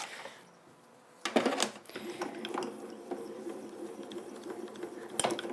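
A craft die-cutting machine cranks a detailed steel die through in a pass, giving a grinding, rolling mechanical rumble with clicks that starts abruptly after a quiet moment and carries on steadily, with a sharp knock near the end.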